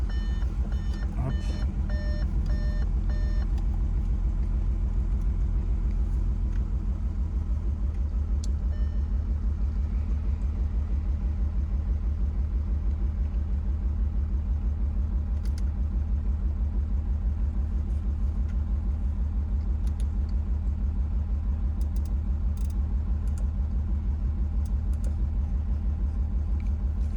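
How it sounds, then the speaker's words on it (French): An Audi Q5 3.0 TDI V6 biturbo diesel idles steadily just after starting, a continuous low engine rumble with a few brief electronic beeps at the start and no talking. "donc on vient démarrer le véhicule"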